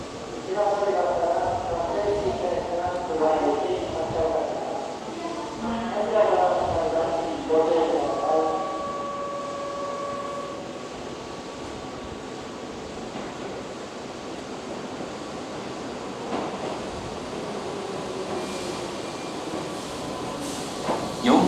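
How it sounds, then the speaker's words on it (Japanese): An eight-car Keihan limited express bound for Yodoyabashi rumbles into platform 4 at Hirakatashi station, a steady rolling rail noise heard under station announcements. "まもなく4番線に特急淀屋橋行きが8両で到着します。"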